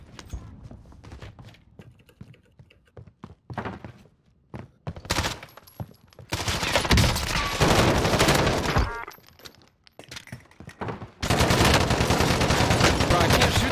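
Rapid automatic gunfire in the video game Call of Duty Warzone, with scattered shots at first and then long, loud sustained bursts up close.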